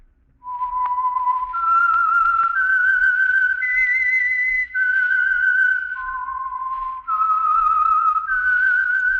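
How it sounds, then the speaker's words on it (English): A lone whistler performs the theme signal for The Whistler radio program, a clear, pure melody of held and stepping notes. The whistling is close and alone, with short breaths between phrases. "That whistle is your signal for the Signal Oil program, The Whistler."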